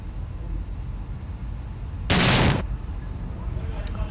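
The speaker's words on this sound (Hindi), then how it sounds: "एक बार फिर से हम आपको तस्वीर दिखाएंगे किस तरीके से वो धमाका होता है।" A bomb goes off during a defusal attempt, caught on CCTV at a site where terrorists hid in Gurdaspur: one loud, sudden blast lasting about half a second, standing out over a steady, rough background rumble.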